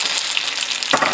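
Mushrooms frying in hot oil give a loud, dense, continuous crackling sizzle close up, with a brief louder burst of spattering near the end.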